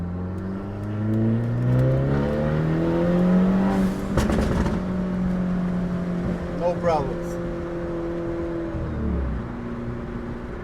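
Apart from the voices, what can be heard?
Hyundai Elantra N accelerating hard, N mode pull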